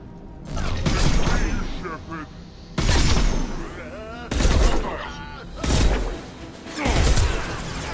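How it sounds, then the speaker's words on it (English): Sci-fi gunfire from Mass Effect 2 as Blue Suns mercenaries and Vorcha shoot, bursts of shots and whooshing effects rising and falling in several loud waves, mixed with game sound and talking voices. "The Blue Suns and Vorcha shooting anything that moves"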